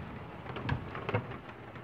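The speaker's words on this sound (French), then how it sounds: "Là, je vous avoue que c'est un bel orage." A strong thunderstorm in Villers-Bocage, France, in June: steady hissing rain with a couple of low, distant thunder rumbles underneath.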